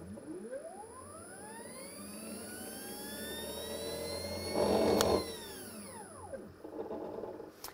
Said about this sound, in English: I'll bring it up to speed, and then I'm gonna let completely off the throttle